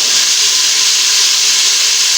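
Finely chopped and slit green chillies dropped into well-fried masala for sarson ka saag, giving a loud, steady hiss of frying oil that fills the whole stretch with no talk.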